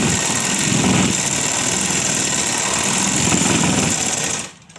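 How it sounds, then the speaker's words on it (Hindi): A sewing machine stitches along a straight fabric edge, a loud, steady, fast mechanical whir that runs close and alone before stopping abruptly at the end. "अब हम दूसरी सिलाई सीधे कपड़े पर लेंगे।"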